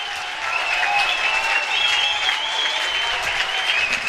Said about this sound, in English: Crowd comes to its feet.